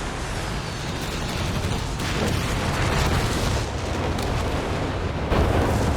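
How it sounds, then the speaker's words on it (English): Artillery barrage in the video game Company of Heroes 3, dense booms and bursts rolling continuously, loud and close, with overlapping explosions and no talk. "It's got the artillery overwatch down as well."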